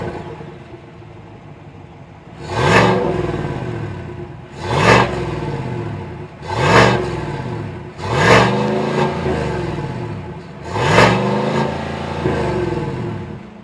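A 2026 Chevy Silverado 1500 LT's 5.3-liter naturally aspirated V8 idles, then revs five times at regular intervals, each a loud, deep swelling roar falling back to a rumbling idle, heard close with no speech.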